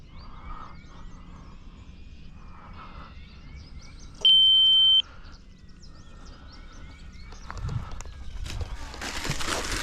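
A single steady electronic beep from an RC radio transmitter sounds for under a second against quiet background noise, with faint chirps and rustling around it.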